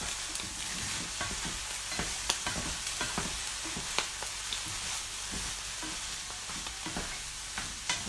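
Breakfast hash frying in a pan with a steady sizzle while a utensil stirs it, scraping clicks and knocks scattered through the constant hiss.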